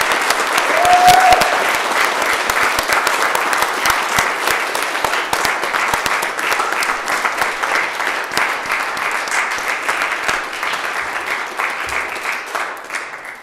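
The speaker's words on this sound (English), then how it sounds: "let's give Zach one more round of applause" An audience at an Eagle Scout court of honor gives Zach sustained applause, dense steady clapping that holds for over ten seconds and tapers slightly near the end.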